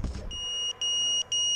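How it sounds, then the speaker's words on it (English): A drone flight controller running Betaflight or Cleanflight plays lost-arming SOS tones: short clear electronic beeps in groups with brief gaps, steady and moderately loud, with a muffled thump at the start. "it does go beep, beep, beep, boop, boop, boop, beep, beep, beep. And that is lost arming"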